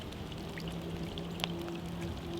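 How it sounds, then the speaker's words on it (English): Heavy rain pours steadily beside a flooded river, a faint continuous wash of falling water with scattered drips and a brief splash, no voices. "it's raining really bad."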